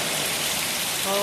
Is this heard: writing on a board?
no